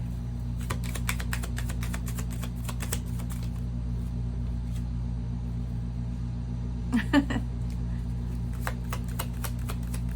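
Shuffling of a Situations Oracle card deck: bursts of crisp riffling clicks in the first three seconds and again near nine seconds, with a brief louder flutter near seven seconds, over a steady low hum.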